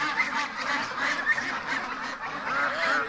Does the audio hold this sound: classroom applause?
no